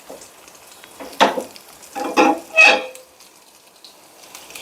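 Curry leaves crackle as they are dropped into hot oil for a chutney tempering, with three loud sizzling bursts over a low background hiss, no voices.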